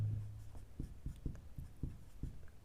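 Pen or chalk writing during a maths lesson on ratio and proportion, a series of short tapping strokes in a fairly even rhythm, close and quiet, with no talking.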